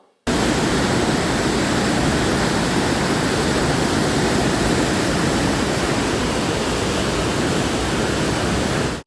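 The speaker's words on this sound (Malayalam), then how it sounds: "നിലമ്പൂർ മേഖലയിൽ കനത്ത മഴ, പുഴകളിൽ ജലവിധാനം ഉയരുന്നു" Heavy rain in the Nilambur hills, a dense, steady roaring wash of water like a swollen river rushing, unbroken and loud from start to finish, with no voices.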